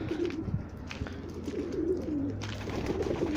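Pigeons coo in low, soft repeated calls, fairly close, with steady background rustle and no talking.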